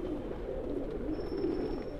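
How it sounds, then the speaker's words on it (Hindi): A pigeon held in a man's hand at a pigeon-racing tournament gives a low, continuous cooing, steady and close, with no talk. "अहमद भाई के हाथ में कबूतर है"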